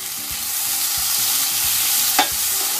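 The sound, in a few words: stirring chow mein frying in pan with oyster sauce and sesame oil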